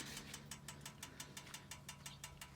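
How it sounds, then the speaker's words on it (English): A 2007 Harley-Davidson Road King police motorcycle with True Dual header pipes and Crusher exhaust idles with a steady, lumpy rumble, its regular pulsing beats fairly quiet and continuous. "this bike has a great rumbling sound to it"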